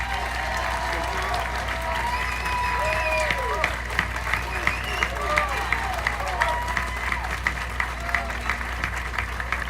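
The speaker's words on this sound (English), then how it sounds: "Do I have another applause for our band?" Theatre audience applauding a live band at an evening show, sustained dense clapping from a crowd, fairly loud and even throughout, with a voice speaking over it at times.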